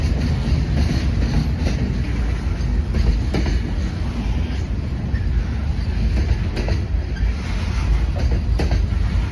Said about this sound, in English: The I-044 tonight, as you see here, is led by locomotive 3314 as it hauls Tropicana Juice Train cars